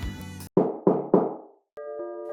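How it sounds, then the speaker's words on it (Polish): Three firm knocks land on a door in a steady rhythm, close and loud, between stretches of tonal cartoon music. "Ktoś puka o tej porze?"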